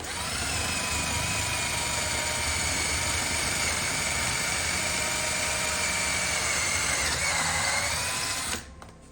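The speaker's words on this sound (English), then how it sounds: "I'm going to drill all the way through both parts of the frame" A power drill whines steadily for several seconds, grinding through a wooden model railway baseboard frame, then cuts off abruptly near the end.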